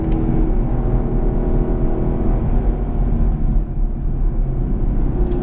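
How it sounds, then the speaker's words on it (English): Ford Mustang GT with the Performance Pack accelerating in sixth gear, a loud, steady V8 drone and rumble heard from inside the car, building gradually with no gear changes. "the Mustang has a really fun engine that sounds like an old school Trans Am race car"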